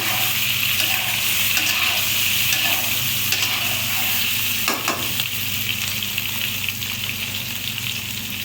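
Chopped onion and tomato fry in oil with ginger, garlic, chilli and turmeric pastes and potatoes, producing a loud, close, steady sizzle broken by a brief clatter midway.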